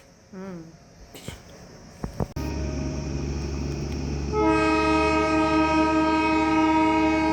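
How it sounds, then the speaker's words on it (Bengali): Darjeeling toy train passing along the road below a hillside homestay at Rongtong, rumbling nearby before its horn blares loud and sustained for the last few seconds, with a few sharp clanks early on. "রংটং হোমস্টের নিচেই রাস্তা, টয় ট্রেন যাচ্ছে।"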